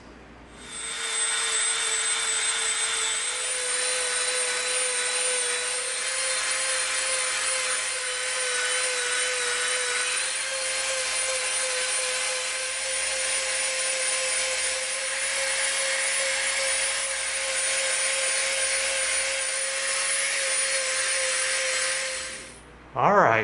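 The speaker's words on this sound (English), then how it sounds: "we are going to go Dremel bananas on this thing. We're going to totally sculpt this to be round." Dremel rotary tool grinding and sculpting EVA foam, a sustained high-pitched whine with a faint tonal hum running steadily for over twenty seconds before cutting off abruptly at the end.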